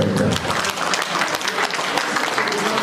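Guests at a Kazakh betashar wedding ceremony break into dense, sustained applause, a close, busy wash of many hands clapping, with a voice faintly audible beneath it.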